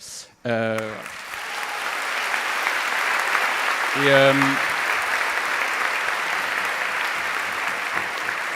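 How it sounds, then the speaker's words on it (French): Steady audience applause during a Christian testimony gathering, a sustained wash of clapping lasting several seconds after a brief voice at the start, with another short voice partway through. "c'est le Seigneur que vous applaudissez et pas moi"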